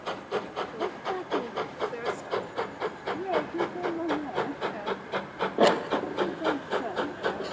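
A heritage steam train approaches the platform at the Mid Hants Railway autumn gala, its exhaust beating in a steady rhythm of close, even chuffs with hiss, and a voice briefly speaks over it.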